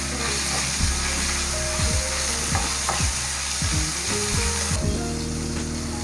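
Chicken pieces fry in a pan with a loud, constant sizzle, and repeated scraping strokes of a spatula stir through it, close and without talk.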